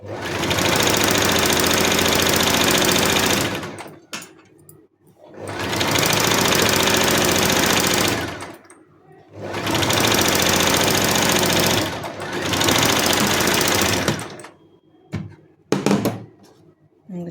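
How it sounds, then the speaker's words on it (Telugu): A sewing machine stitches a blouse hem in three long, steady whirring runs of rapid needle clatter, each several seconds long and separated by brief pauses, with a few short bursts at the end, close and loud. "ఎమింగ్ చేసేటప్పుడు ఈజీగా ఉండడం కోసం ఈ ఒక స్టిచ్ వేసుకోవాలి"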